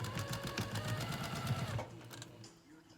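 A sewing machine stitches fabric down along a curve while quilting, its rapid steady needle chatter running close for nearly two seconds before it slows and stops, followed by quiet handling.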